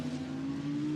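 An Audi GT race car climbs the hill at Brands Hatch with a steady engine drone and a strong low tone, heard from a distance at an even level without changing pitch.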